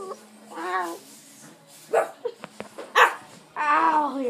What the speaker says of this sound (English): The little puppies are attacking me.